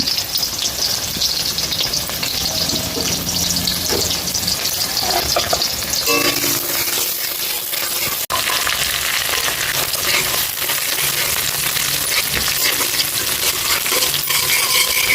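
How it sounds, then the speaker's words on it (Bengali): Chopped onions and green chilies fry in a pan with a continuous loud sizzle and the scrape of stirring. A single sharp metallic clink lands midway, and no one speaks. "পেঁয়াজগুলো লাল করে ভাজা হয়ে গেছে"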